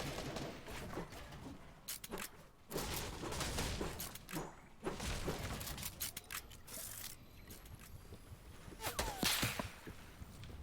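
Gunfire in a Fortnite match during a competitive FNCS Finals trio fight, with sharp cracks and whip-like sniper shots scattered through dense game action, louder near the end.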